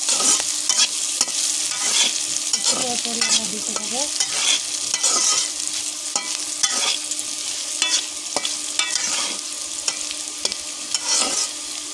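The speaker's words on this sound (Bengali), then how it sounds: "আমি আবারও ভালো করে নেড়ে দিলাম নেড়ে ভালো করে ভেজে নেব" Noodles are stirred and fried in a pan, with a loud continuous sizzle and frequent scraping and tapping of a spatula against the pan, close up and without any talk.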